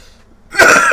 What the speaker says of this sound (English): I apologise for my coughing, by the way.